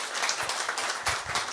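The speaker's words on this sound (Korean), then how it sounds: "우리 목사님 큰 박수로 부탁드립니다." A church congregation at a Tuesday men's prayer meeting applauds the pastor after the sermon, a steady wash of clapping that holds for the whole stretch with no voices over it.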